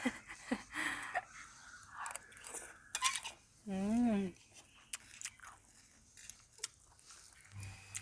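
Someone bites and chews banana blossom curry with crunchy, close bites and wet chewing, interrupted by people talking and a voice humming.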